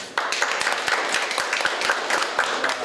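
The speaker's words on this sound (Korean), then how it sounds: "박수 한번 더 주실까요?" An audience at a panel discussion on digital archiving claps steadily for a few seconds, a sustained, fairly loud burst of applause with rhythmic individual claps standing out.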